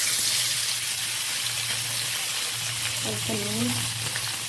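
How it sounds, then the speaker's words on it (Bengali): Potatoes frying in a hot wok (kadai) for Bengali aloo dum give a steady broadband sizzle throughout, with a low hum beneath and a brief spoken phrase near the end. "এবার আলুগুলো একটু ভেজে নেব।"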